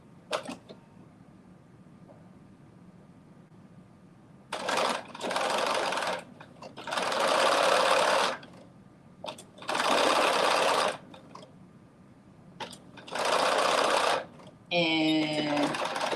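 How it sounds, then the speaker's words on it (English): A home sewing machine stitches two fabric bonnet pieces together in several loud, steady bursts of whirring, separated by short pauses and ending with a brief higher-pitched run. "And now I'm going to sew these 2 pieces together."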